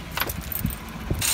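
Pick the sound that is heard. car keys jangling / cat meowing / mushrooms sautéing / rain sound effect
car keys jangling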